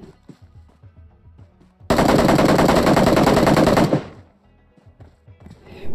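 Automatic gunfire in the mobile battle royale game BGMI erupts in one loud, sustained two-second burst of rapid shots, with quieter scattered game sounds before and after.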